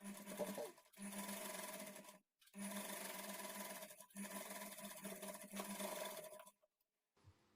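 Sewing machine running along the folded edge of a blouse lining in bursts, each a steady close mechanical hum with rhythmic needle ticking, separated by short pauses before falling quiet.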